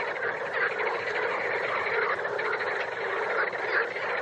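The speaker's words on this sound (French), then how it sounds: "Et là, vous entendez les grenouilles. Des millions de grenouilles. Différents appels de la grenouille, des chants d'accouplement." Dense chorus of countless frogs giving varied mating calls in the Danube Delta wetlands, a continuous outdoor trilling and croaking wall of sound with no gaps.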